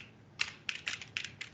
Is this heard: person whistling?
no